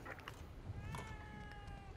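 A cat in the video game The Evil Within 2 gives a couple of faint, drawn-out meows over quiet background ambience.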